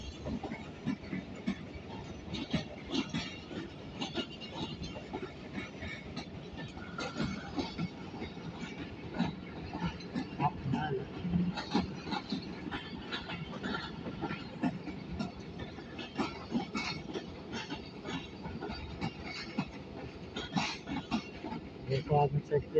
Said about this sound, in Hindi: 128 डाउन नहर एक्सप्रेस, जो मुल्तान से रावलपिंडी जाती है।